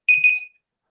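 Short electronic beep of an auction timer buzzer, a single bright tone pulsing twice before cutting off, close and clear against silence.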